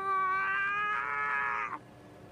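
A person gives a drawn-out, high wavering wail imitating a brown hyena call, strained and nasal, cutting off abruptly after about two seconds.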